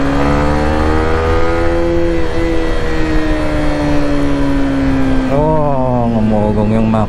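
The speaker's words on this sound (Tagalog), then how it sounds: "ngumugong yung makina, oh." A car engine revs on a road near San Fernando, a loud sustained drone whose pitch slides slowly downward and then rises and falls again toward the end, close and continuous.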